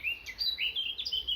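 Small birds sing outdoors in the morning, a string of bright, high chirps and short whistled phrases repeating over faint background hush.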